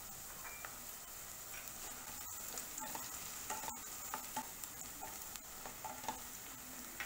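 Finely chopped spring onion whites and dry red chillies sizzle in hot oil for veg Schezwan noodles. A continuous bright hiss carries repeated clicks and scrapes of a spatula stirring in the pan.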